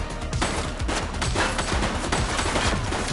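Loud, rapid gunfire from a police action scene: a dense fusillade of overlapping shots, like several weapons firing at once, sustained with no pauses.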